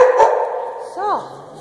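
Dogs bark indoors in a room, a couple of close, loud barks with a short whine-like yelp near the end, overlapping a person talking.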